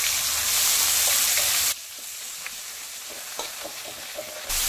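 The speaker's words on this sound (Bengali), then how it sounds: "পেঁয়াজটাকে একটু লাল লাল করে ভালো করে ভেজে নিতে হবে।" Chopped onion fries in oil with dried chillies, bay leaves, cinnamon, cardamom and cloves, a loud close hiss that drops abruptly to a softer sizzle with occasional pops, then swells again.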